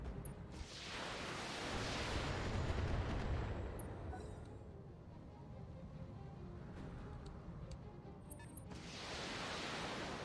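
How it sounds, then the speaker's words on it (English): Long-range missile barrages in the BattleTech video game roll out as deep, rumbling volleys of blasts and explosions, swelling and fading in broad sustained waves. "LRM barrages from left to right"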